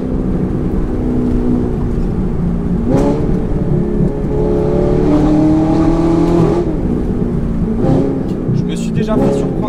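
An Audi R8 V8 R-tronic supercar revs and accelerates, its engine note rising and falling through a few throttle bursts, heard close from inside the car under ongoing conversation.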